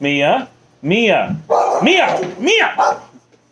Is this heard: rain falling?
no